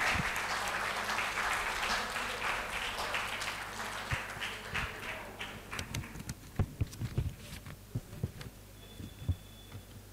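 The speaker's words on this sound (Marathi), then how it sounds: "जरा जोरात टाळ्या होऊ देत त्याच्यासाठी" Audience applause at a football club's lifetime achievement award ceremony, dense clapping at first that thins out into scattered claps and low thumps over a hum.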